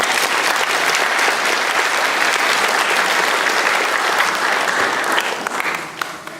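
Sustained, dense applause from an auditorium audience welcomes the Huayang Orchestra at a Confucius Institute birthday event, loud and steady throughout before tapering off at the end.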